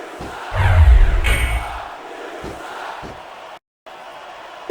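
Crowd roar and cheering at a wrestling match in the PS2 video game WWE SmackDown! vs. Raw 2006, a loud burst swelling early then thinning into a background din, cut briefly by a moment of silence.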